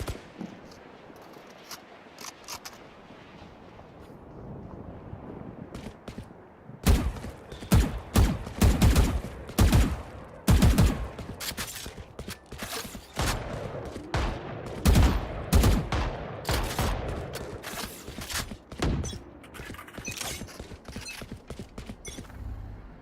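Rapid gunfire in the tactical shooter Valorant: after a quieter stretch, a dense run of sharp, loud shots and bursts fills most of the second half, with mechanical clicks and creaks between volleys.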